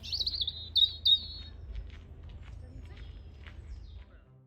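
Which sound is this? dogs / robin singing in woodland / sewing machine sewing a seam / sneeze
robin singing in woodland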